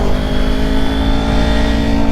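Kawasaki Ninja 400 motorcycle shifting into second gear, a steady, loud engine drone held close throughout with no pauses and no voices.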